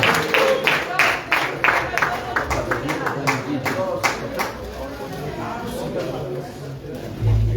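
A church congregation applauding together at the end of a seminar service, a steady patter of many hands clapping over a murmur of voices, fairly close and lively, fading slightly toward the end.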